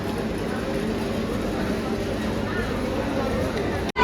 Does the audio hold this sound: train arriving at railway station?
yes